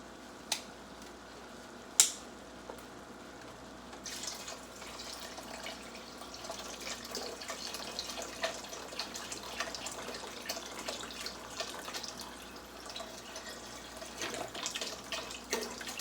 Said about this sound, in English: Now we're going to add, I'm using vegetable broth.